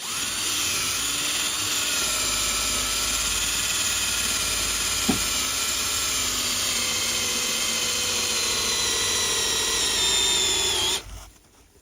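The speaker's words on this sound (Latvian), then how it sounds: "Kā mēs tagad cauru urbu?" A power drill whines steadily for about ten seconds, loud and close, drilling through a door, with one brief clunk midway, then stops abruptly.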